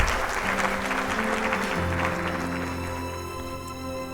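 Audience applause, a dense continuous burst of clapping with steady sustained tones running underneath, loud and even throughout.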